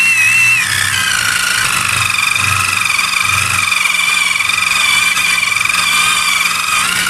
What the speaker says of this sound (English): I have my impact drill here, and all you want to do is go around.